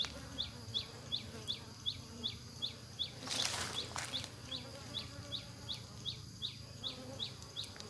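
Asian cavity-nesting honey bees fly in and out of a wooden hive box in a durian orchard, making a steady close buzzing with a regular repeating pulse. A brief louder rustle comes midway, and no one speaks.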